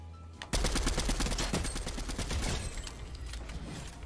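Rapid bursts of automatic gunfire from an overpowered gun in Fortnite Chapter 3, a dense, loud rattle of repeated shots that starts abruptly and keeps firing in quick succession for several seconds.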